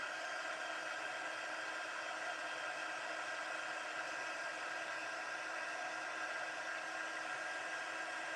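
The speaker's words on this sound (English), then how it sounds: "we'll grab our heat tool and our little tongs" A craft heat tool blows steadily over embossing powder on a card, giving a continuous hissing whir at even loudness for the whole stretch, with no talking over it.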